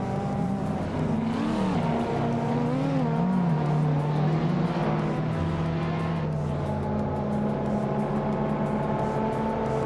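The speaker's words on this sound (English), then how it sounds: "driving a Renault 5 Turbo from 1984, known for its lightweight and turbocharged power" A 1984 Renault 5 Turbo race car in a video game, its turbocharged engine droning and shifting pitch steadily while it drives, with wavering revs and no talking over it.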